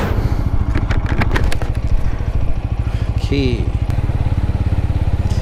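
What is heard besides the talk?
TVS Apache motorcycle engine while riding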